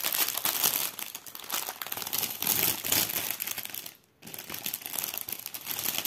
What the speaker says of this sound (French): Donc je déballe.